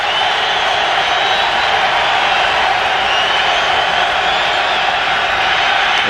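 Dense, steady roar of a football stadium crowd cheering at a Bears vs. Lions NFL game, a loud continuous wash of voices with no breaks, under a commentator's talk.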